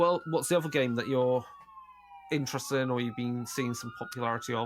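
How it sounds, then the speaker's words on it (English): Emergency vehicle sirens pass by outside, a long rising and falling wail running steadily beneath two people talking indoors, clearest in a brief pause between their voices. "maybe you can hear the sirens going by"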